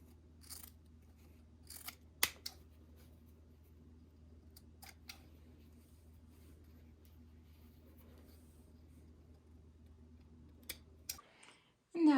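Scissors snip the loose fabric ends off quilt binding in a quiet room, a few crisp, separated cuts spread out over a low steady hum, with a brief rustle at the end.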